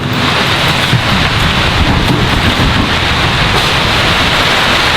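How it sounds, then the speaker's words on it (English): Heavy rain pours steadily onto the Amazon jungle canopy, a loud, dense, unbroken roar of drops hitting leaves, with no voices over it. "Sounds like it's making its way through the canopy now."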